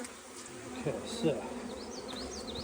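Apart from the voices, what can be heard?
honeybee swarm buzzing in a tree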